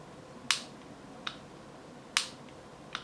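Four sharp, loud plastic button clicks on a Braun Series 1 130 electric shaver, spaced unevenly and close up, against a quiet background.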